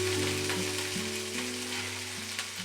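Green chillies fry in hot oil in a pan for paneer bhurji, with a close, steady sizzle and crackle throughout and no speech.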